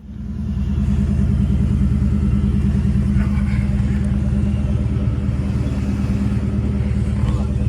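2018 Shelby GT350 Mustang convertible cruising with a loud, steady low engine rumble and road noise, swelling in over the first second and then holding constant.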